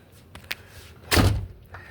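A door from a villa kitchen swings shut with a single solid thud, preceded by a faint click and light handling noise, close and alone.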